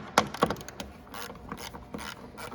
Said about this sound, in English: you're gonna take a 10mm ratchet and wrench